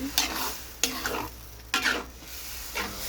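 Boiled mung beans being stirred into a sautéing mixture in a pan, giving a close, loud sizzle with four distinct scraping stirs at regular intervals and no talk.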